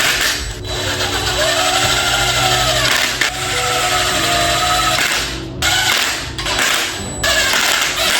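Power tool or ratchet whirring steadily while tightening engine head bolts on a Honda K24/K20 engine being assembled for an MR2 swap, loud and close with brief pauses between bolts.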